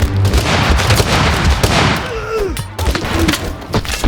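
Gunfire in the video game Totally Accurate Battle Simulator, dense rapid shots and booms in a loud chaotic battle barrage, with a voice partly audible over it.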